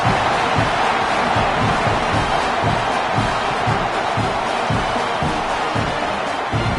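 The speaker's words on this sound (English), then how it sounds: "This crowd absolutely loving it as he rolled into the end zone." A football stadium crowd roars steadily after a touchdown, a dense, continuous wall of cheering and shouting that holds at full level throughout.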